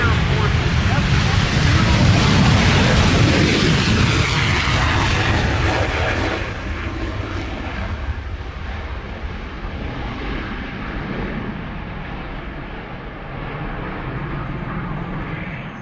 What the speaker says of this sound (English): I present to you the United States Air Force's F-150